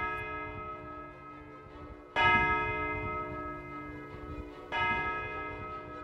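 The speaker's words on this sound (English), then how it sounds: "with the wind vane and the bronze bell, the Montanina." The bronze bell called the Montanina, hanging in the medieval Bargello Palace tower in Florence, tolls twice, each strike loud and ringing out into a long resonant hum that carries into the next stroke.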